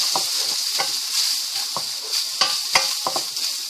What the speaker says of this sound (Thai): เราเอาเต้าหู้ไปทอดก่อนนิดนึงนะเพื่อนๆให้มันเหลืองๆหน่อยๆนะ